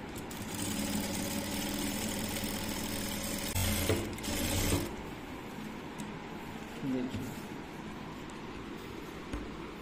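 A sewing machine top-stitches along the edge of a shirt front placket, a steady mechanical running hum with a brief louder burst midway, close and continuous with no talking.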